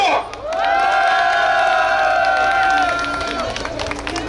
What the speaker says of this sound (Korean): 뜨거운 박수 한번 쳐주십시오.